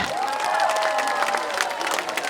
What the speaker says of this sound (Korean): 우리 고재진 어, 의장님 그리고 공원석 축제위원장님께 다시 한번 큰 박수 부탁드리겠습니다.